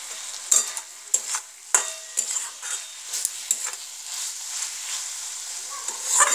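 Sliced capsicum and onion fry with chicken masala in a hot pan, a close sizzle cut by repeated sharp scrapes and clinks of a spatula stirring, and no talk.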